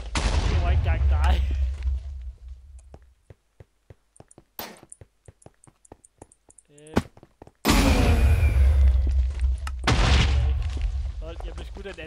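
Game gunfire in Quakecraft, a Minecraft shooter mode, with bursts of rapid shots and sharp cracks under loud excited talk, a quieter stretch of isolated single shots in the middle, then dense firing again.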